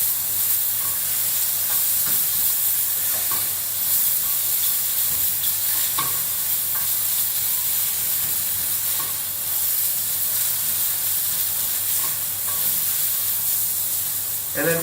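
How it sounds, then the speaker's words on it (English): Vegetables cooking in a pan sizzle steadily while being stirred, with a continuous frying hiss and occasional soft scrapes of the stir; no voices. "I'll give them a bit of a stir."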